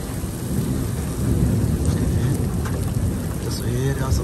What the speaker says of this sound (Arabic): ما زال تساقط حبات البرد تستمر الآن في مدخل فوارة شمال شرق مكة